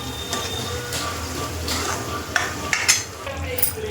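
Mutton masala with a little water is stirred and fried in a pot, giving a close, busy sizzle broken by sharp spoon clinks and scrapes against the metal.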